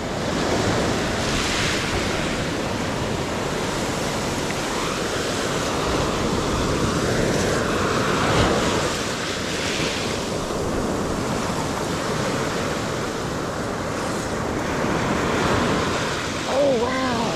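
Ocean surf rolls onto a Gulf beach at Stumps Pass after Hurricane Ian, a constant broad roar of breaking waves with heavy wind buffeting the microphone, steady and loud for the whole stretch.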